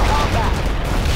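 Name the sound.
gunfire in video game World in Conflict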